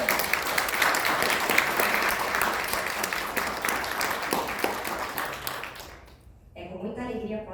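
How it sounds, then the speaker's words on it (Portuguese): Audience applause at a seminar on Ehlers-Danlos syndrome, hypermobility and pain: dense, sustained clapping from a seated crowd that fades out near the end before a voice speaks alone. "uma salva de palmas"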